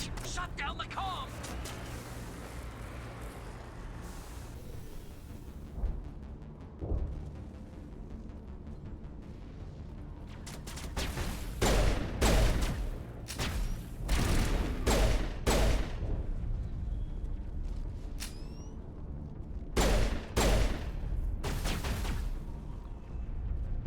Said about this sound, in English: This pistol hit kinda nastily.